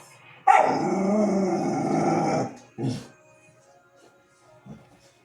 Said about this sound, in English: She's barking at the light